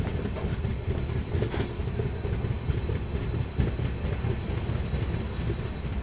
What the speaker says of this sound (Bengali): এই মুহূর্তে আমরা ছেড়ে বেরিয়ে যাচ্ছি রাজা ভাতখাওয়া রেলওয়ে স্টেশন